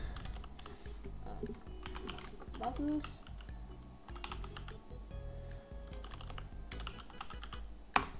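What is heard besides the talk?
typing on a computer keyboard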